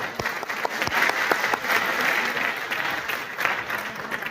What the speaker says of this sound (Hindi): सर के लिए एक बार तालियां बजा सकते हैं आप